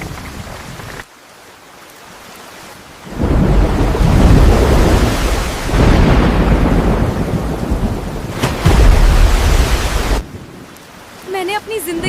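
Heavy rain pours in a dense, loud roar after a quieter start, with deep thunder rumbles swelling through it and a brief lull before the downpour returns near the end.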